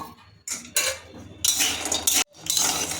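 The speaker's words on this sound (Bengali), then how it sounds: "আমি প্রথমে শুকনো খোলায় বড়ি ভেজে নেব" Bori lentil dumplings dry-roasted in an empty pan, giving bursts of clinking, rattling scrapes that start and stop as they are tossed, fairly close and loud with short quiet gaps.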